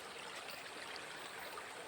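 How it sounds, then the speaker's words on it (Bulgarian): A river stream flows steadily close by, a constant broadband rush of running water with no voices over it. "Има и друга река тук."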